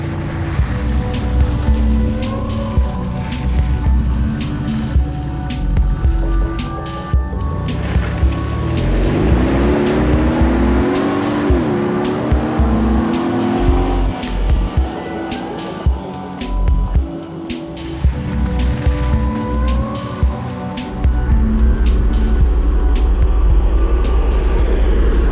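Mercedes G-Wagon with portal axles rolling along a public road, a steady low engine and tyre drone filling the cabin throughout, swelling and easing with the drive, with no talk over it.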